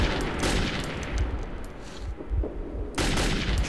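Gunfire rattles in Metro 2033, a dense run of loud, close shots and bursts with booming low thuds, briefly thinning before another heavy volley resumes.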